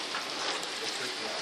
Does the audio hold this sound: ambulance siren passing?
no